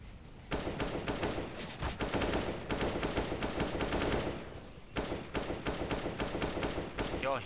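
Rapid bursts of automatic gunfire crackle in repeated volleys with brief pauses between them, sharp and close, typical of a shooting game.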